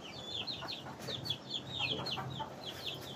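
Gamefowl hens and roosters from a Filipino breeder's flock cluck in short, repeated chirpy bursts across a few seconds over a steady low background hum, moderately close and fairly soft, with no talk.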